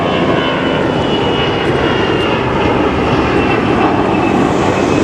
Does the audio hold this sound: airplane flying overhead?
yes